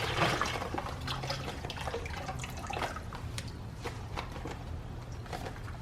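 Liquid pours into a soup pot with cooked onions, a steady close splashing and trickling with scattered drips and clinks, no voices.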